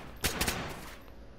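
Video game gunfire: two close, sharp shots or short bursts near the start, then a fading tail with no talking.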